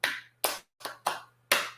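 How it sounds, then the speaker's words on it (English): People clap for a student in a classroom lesson, five separate sharp slaps spaced unevenly over under two seconds, close and fairly loud, with no voices over them. "Please clap for him."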